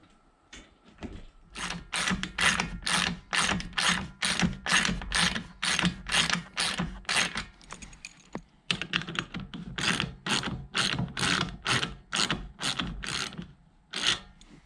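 A ratchet clicks in rapid, repeated bursts while a DIY PS4 racing simulator frame is being bolted together, each sharp run of pawl clicks close and loud, with brief pauses between strokes.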